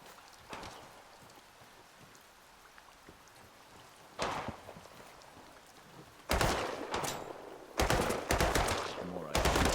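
Rapid automatic gunfire from the video game Sancticide, with a short burst early on, another near the middle, then loud sustained volleys dominating the last few seconds over a quiet background.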